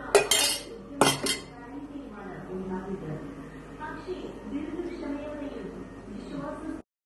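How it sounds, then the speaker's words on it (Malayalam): Mango pieces tipped into a boiling curry pot, with sharp metallic clinks and scraping of a utensil against the pot, under continuous talking. "നമുക്ക് ഇതിനുള്ളിലേക്ക് ഇനി മാങ്ങിടാം."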